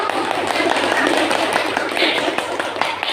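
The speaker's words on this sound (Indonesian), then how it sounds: "Beri tepuk tangan." A classroom of students claps hands together in a dense, continuous patter of applause, fairly close and loud, with some voices mixed in.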